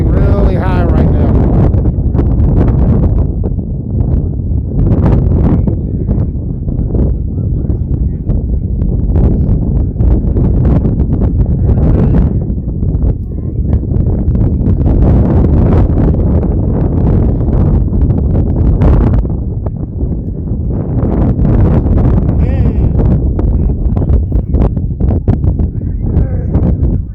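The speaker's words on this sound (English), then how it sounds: "Wind getting really high right now." Strong, steady wind roaring and buffeting the microphone outdoors at a flag football game, loud and continuous throughout with faint voices underneath.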